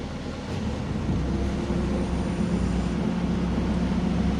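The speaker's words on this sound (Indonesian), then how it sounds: "fan radiator atau kipas radiator akan menyala" The radiator cooling fan of a Toyota Avanza car kicks in with the air-conditioning compressor, a steady low hum and whir that rises slightly after the first half second and then holds constant, with no talking.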